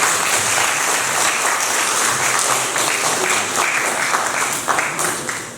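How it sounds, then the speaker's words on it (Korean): A crowd applauds steadily and loudly throughout a civic association general meeting, a dense continuous patter of clapping with no break. "여러분 박수 부탁드릴게요"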